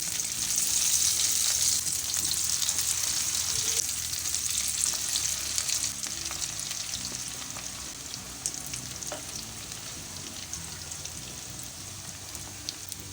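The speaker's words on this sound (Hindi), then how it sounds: "तेल गरम हो गया है। अब मैं इसके अंदर आलू डाल दूँगी।" Spiced potatoes fry in hot oil over high flame, a dense, steady sizzling hiss with scattered pops and crackles that eases slightly in loudness over time.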